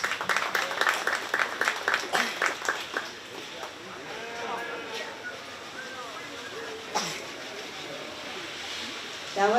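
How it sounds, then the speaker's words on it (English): Clapping from a crowd at a county fair 4-H sheep and goat livestock show, loud and rhythmic at first, then fading into a noisy murmur of voices and arena sounds, with a brief burst near the end. "Let's give them a big round of applause."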